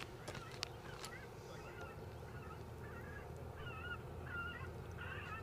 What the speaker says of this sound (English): Sounds like we've got a bit of bird scaring